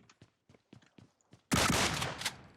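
A string of soft footstep clicks leads into a sudden, loud burst of automatic gunfire that lasts about a second in the mobile battle royale game PUBG Mobile, then fades into a lingering rumble.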